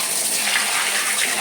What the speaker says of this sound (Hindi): आप प्रेशर से पानी डालोगे साफ़ हो जाएगा पूरा